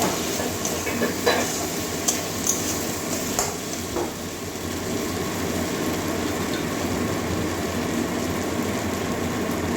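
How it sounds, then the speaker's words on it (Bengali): Pointed gourd (potol) sizzles steadily in hot oil in a pan, with a continuous frying hiss and a few sharp scraping stirs of a spatula near the start, close and loud. "এবারে ভেজে রাখা পটলটা আবারও দিয়ে দিচ্ছি পটলটা ভালো করে কষিয়ে নেব"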